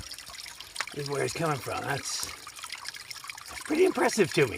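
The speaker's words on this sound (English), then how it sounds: "how we're getting water out here is just impressive to me. Just coming right out from under that rock." Spring water trickles steadily from under a rock beside the Appalachian Trail, a soft continuous running close by while someone talks over it.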